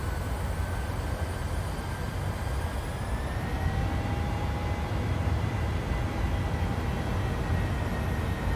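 An American Airlines Boeing 737-700 jet landing at Columbus, a loud steady broadband engine roar with a faint whining tone, continuous throughout and with no voices.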